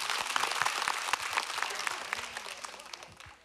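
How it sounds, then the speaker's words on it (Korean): Studio audience at a televised amateur singing contest applauding two contestants, a sustained wash of clapping from a moderately distant crowd that slowly tapers off. "여러분 다시 한번 두 분에게 큰 응원의 박수 부탁드리겠습니다"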